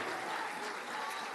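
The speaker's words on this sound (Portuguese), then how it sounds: "Dá uma salva de palmas ao Senhor." A church congregation claps in sustained, even applause during a service, a dense wash of many hands at moderate distance with no voices rising above it.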